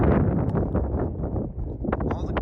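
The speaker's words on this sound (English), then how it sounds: "here's that dang wind again" Wind in open Arizona mining country blows hard and steadily against the microphone as a dense, continuous low rumble with gusty fluctuations.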